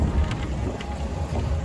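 Cool wind buffets the microphone during a boat ride in London, a steady low rumble with faint mechanical clicks, no voices.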